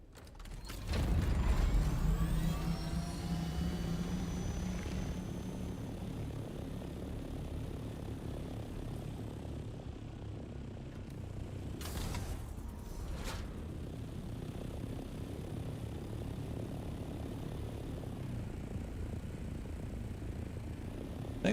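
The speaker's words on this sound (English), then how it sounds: "I think that's an assault copter." Assault copter in the video game Dune, a low mechanical engine drone with rotor-like rumble that swells early and then holds steadily, with a few clanking ratchet sounds and brief sharp noises, no talking.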